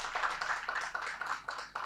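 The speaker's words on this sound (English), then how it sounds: "A big round of applause if I can put it here." An audience claps for registered delegates at an opening-day introductions session: a steady run of hand claps comes in regular pulses, moderately close and fairly loud, with no speech over it.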